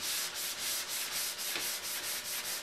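Sanding block scrubbing primer on a Chevy Cruze hood in steady rhythmic back-and-forth strokes, close and loud, roughly five passes a second with no voices.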